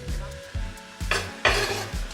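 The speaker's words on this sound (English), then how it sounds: "I'm gonna add 2 onions that I sliced to this." Two sliced onions drop into a hot pan of beef brisket drippings, bursting into a loud sizzle with a few scraping stirs and knocks of a utensil, the frying hiss swelling in two strong waves.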